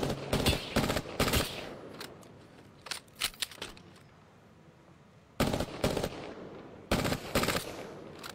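Rapid automatic gunfire rattles in a shooter video game, loud close bursts in clusters with quieter single shots and gaps between volleys.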